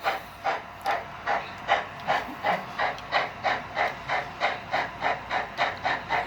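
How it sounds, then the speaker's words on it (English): Steady rhythmic chuffing of a small model train running, regular hissy pulses about three per second, close and continuous with no voices. "So as our train makes it through the industrial area"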